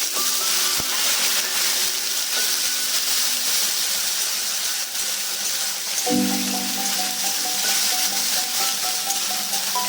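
Ginger and green chili paste fries in a pan for a Katla fish and potato curry, giving a loud, even sizzle and hiss throughout, with a short clatter near the start.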